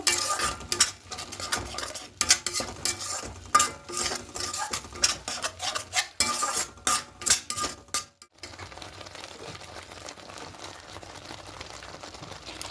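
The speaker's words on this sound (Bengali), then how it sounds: "এবার খুব ভালো করে সব কিছু একটু নাড়াচাড়া করে কষিয়ে নেব।" A spoon or spatula scrapes and clatters in a pan while spiced potato paneer curry is stirred and fried, with rapid irregular metallic knocks for about eight seconds, then a steady soft sizzle.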